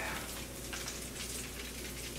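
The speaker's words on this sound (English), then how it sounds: "Butter's sizzling." Quiet, continuous sizzling of butter in a pan, a soft steady crackle with no talking over it.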